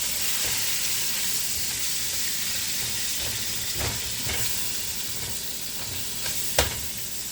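About two pounds of ground turkey browning in a home pan, a continuous close sizzle with occasional spatula scrapes and one sharp clink near the end, no talking.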